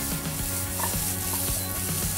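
Romanesco cabbage being stirred into a frying pan of small-cut sautéed potatoes, a continuous sizzle with repeated scraping stirs and light clinks, close and moderately quiet, no talking.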